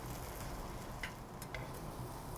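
Bread slices toasting in a pan, a soft continuous sizzle with a few faint scraping clicks, quiet and steady with no talking.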